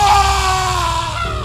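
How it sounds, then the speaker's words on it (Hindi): A scream sound effect in a horror story: a loud, sustained, strained wailing scream held steady for over a second against a dense noisy backdrop, close and harsh. "और फिर एक चीख आई।"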